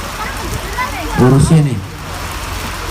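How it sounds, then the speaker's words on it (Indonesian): Rain falls in a steady soft hiss during an evening gathering, running beneath a man's nearby speech throughout. "Iya, hujan basah."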